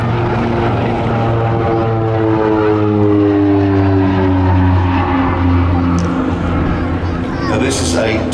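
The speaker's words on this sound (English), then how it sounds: "Now this is a two-seat twin-engine style, fully aerobatic turboprop light attack and counterinsurgency aircraft." A North American Rockwell OV-10 Bronco twin-engine turboprop flies past at an air festival, its loud steady propeller drone with shifting harmonic tones dominating, while an announcer talks over it.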